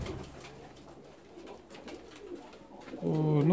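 Fancy pigeons coo softly in a loft, low repeated throaty calls that swell into a louder, close coo at the end.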